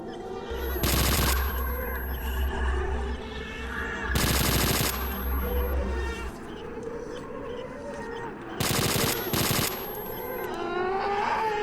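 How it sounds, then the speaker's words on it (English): Rapid gunfire from a weapon in S.T.A.L.K.E.R. Shadow of Chernobyl with the OGSE mod, fired in short, loud, fast bursts, three separate volleys with a high whine, amid underground ambience. "Wow, that rate of fire is pretty epic."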